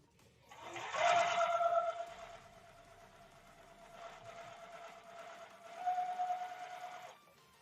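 A sewing machine stitches quilt pieces with a steady whirring hum. It speeds up, slows down and starts again in short runs, fairly close and with no talking.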